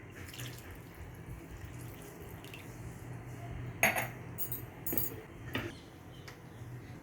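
A glass of water poured into simmering chicken kofta curry gravy in a home kitchen gives a short, soft splash and trickle over a low steady background, with a couple of brief clinks from the pan or glass.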